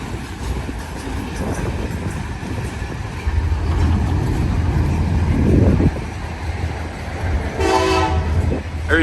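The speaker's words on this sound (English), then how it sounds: "Gonna have two trains passing." A freight train rumbles past a three-track railroad crossing with a steady low roar and rattling cars, and a horn sounds briefly near the end.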